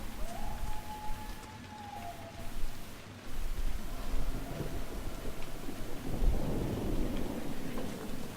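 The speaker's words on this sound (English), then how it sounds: "That lightning bolt was close." A thunderstorm in the video game Dragon Age Inquisition: steady rain hisses throughout while a deep thunder rumble swells and rolls near the end, loud and close.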